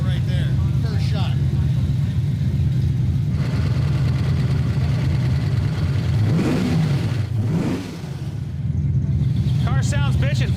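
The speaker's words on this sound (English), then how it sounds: "Car sounds bitchin'. Fired first go." A 1969 Ford Mustang Fastback, restored from a rusted wreck, runs loud and steady with a rumbling low engine note that rises in a couple of revs, while people talk nearby over it.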